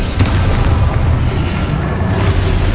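Spell explosions from the video game Hogwarts Legacy, a dense continuous wash of booms and crackling bursts with deep rumbling underneath, loud and sustained with no distinct gaps.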